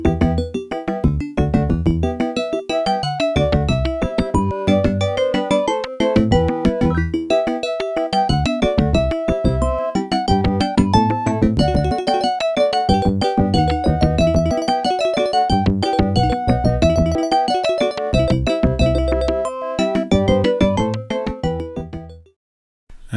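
Monkey Island game music in its Adlib version, played through an AWE32 sound card, runs as a busy, steady synthesized tune at full level for about twenty seconds before cutting off abruptly.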